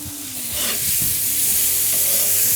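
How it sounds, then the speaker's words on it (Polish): Fried rice sizzles in a hot pan with a bright constant crackle, and a spatula stirs and scrapes it now and then, close and fairly loud with no voices. "Elegancko się smaży."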